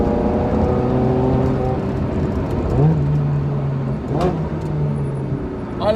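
Ferrari supercar engine revving from inside the cabin, a steady droning hum broken by two sharp throttle blips that rise and settle, loud and close with no talking.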